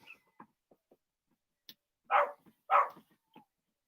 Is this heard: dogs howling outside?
yes